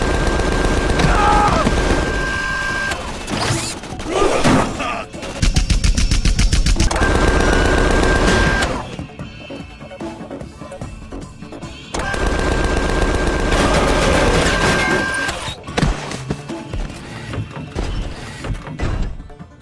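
Sustained bursts of rapid gunfire from a robot in the video game Tales from the Borderlands, loud and dense, with a lull midway before a second long volley, and no talk over it.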